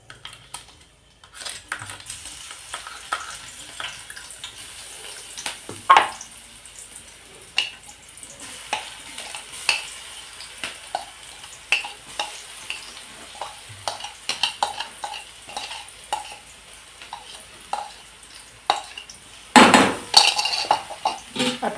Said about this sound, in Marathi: आता ही आपण तेलावरती भाजून घेणार आहोत, मिरची आणि लसणाची भरड.